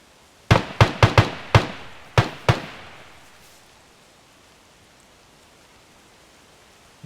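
Seven sharp gunshots from a zombie survival game crack out in an irregular burst, each with a short decaying tail, followed by several seconds of quiet ambient noise.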